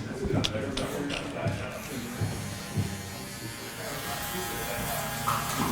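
Electric hair clippers cleaning up a neckline in a barbershop, a close buzzing drone with small clicking bursts as the blades move, running under people talking.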